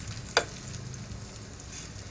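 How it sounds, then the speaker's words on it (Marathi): Paneer paratha frying in a little oil on a pan, a soft steady sizzle with a brief sharp clatter near the start, faint and close. "मी थोडं तेल घेतलं आहे, त्याच्यावर पराठा घालूया."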